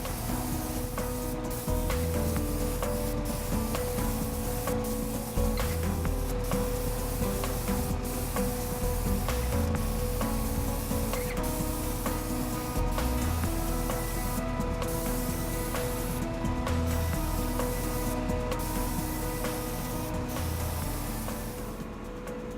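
A steady spray hisses continuously with a low mechanical hum underneath, broken by a few brief sharp clicks, no voices.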